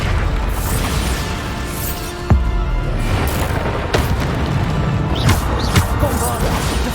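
Bombarda spell explosions in the Hogwarts Legacy video game, booming blasts and crashing impacts recurring through a dense, loud game soundscape with a voice calling out spells over it.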